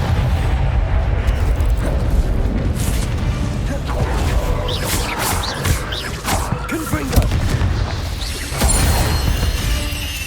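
Repeated magical blast spells explode in the Hogwarts Legacy video game, giving a series of booming bursts and crashes mixed with shouted spell calls and game effects.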